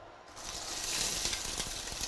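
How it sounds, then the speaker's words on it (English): Onions hiss and sizzle in hot oil for a tin fish curry, a steady bright crackle close by with light stirring, no talking. "So the onion is sizzling."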